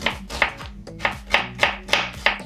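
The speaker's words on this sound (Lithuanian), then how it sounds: "Supjaustome svogūną." Knife chopping onion on a cutting board in a home kitchen, with eight evenly spaced sharp thuds in a steady rhythm, close and clear, with faint background music.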